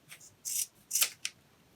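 Scissors snip through the tail of a macrame cord on a plant hanger: a few short, crisp cuts in quick succession, close up and otherwise quiet.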